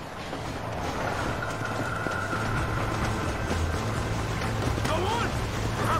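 Train rolling along in Red Dead Redemption, a steady continuous rumble with a faint high whine, heard alongside game background sounds for the whole stretch.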